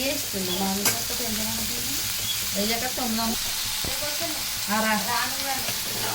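Curry leaves and onions stirred in hot oil in a pan for an egg curry, giving a steady sizzle with repeated scraping strokes of the spoon close by, and a voice talking faintly underneath.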